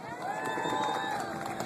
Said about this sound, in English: Another round of applause for Beto